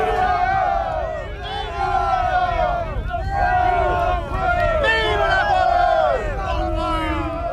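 Napoleon's troops at the bivouac fires of Austerlitz cheer in a large crowd, a loud, sustained chorus of many shouting voices rising and falling in waves.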